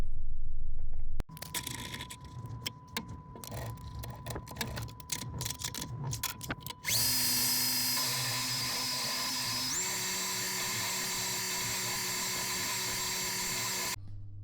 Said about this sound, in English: match it up as I turn it down on the lathe